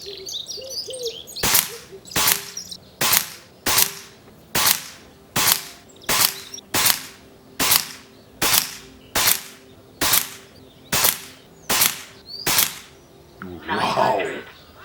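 Air Venturi Nova Vista airgun firing H&N Baracuda 15 grain pellets at a target outdoors, about a dozen sharp cracks evenly spaced roughly one second apart, with birds chirping faintly between shots.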